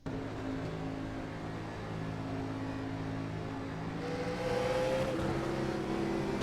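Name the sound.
race car engine revving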